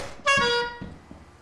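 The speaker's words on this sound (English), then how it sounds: "Oh wait, it's an air horn, never mind." An air horn blares in a Lethal Company video game match, one loud, brassy blast lasting about half a second, followed by faint thumps.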